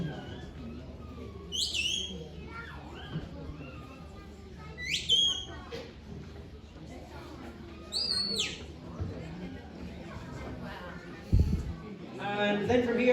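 Sharp rising shepherd's whistle commands to a sheepdog ring out three times at intervals across open air, with a quiet voice and a faint thump near the end.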